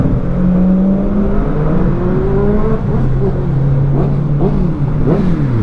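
Two-door, rear-engined Lamborghini sports car: its engine revs loudly and close by in repeated rising and falling sweeps, with a high-pitched whine over a continuous rumble.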